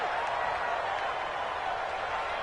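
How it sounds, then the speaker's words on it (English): A stadium crowd in a football video game roars steadily before a big third down, a dense constant wash of noise. "the crowd getting into it as we come up on a big 3rd down"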